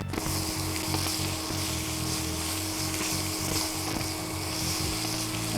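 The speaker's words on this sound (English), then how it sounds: "So tomato paste is cooking well." Tomato paste frying in a pan for sweet sticky pork gives a steady, soft sizzle that runs throughout over a low background hum, with no voices.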